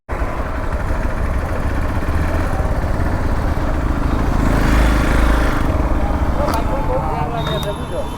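A Hero Xpulse 200 4V motorcycle engine runs steadily and loudly up close, a constant rough drone with a faint click near the end.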